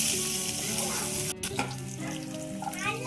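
Onion fries in a hot mustard-seed and cumin tempering, giving a loud close steady sizzle broken by a brief scrape and clatter as it is stirred, with no talking.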